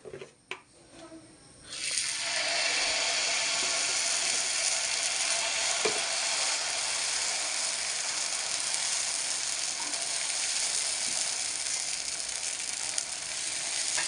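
Batter for podi dosa hits an oiled hot griddle and bursts into a loud, sustained hiss after a few quiet clicks, the sizzle staying bright and even for over ten seconds.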